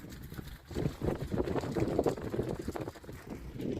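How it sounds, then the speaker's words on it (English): Wind gusts across a Peak District hillside beside small waterfalls, a steady broadband rush with buffeting microphone rumble and churning texture throughout, moderately loud and close, with no voices. "Don't know how this sounds because of the wind"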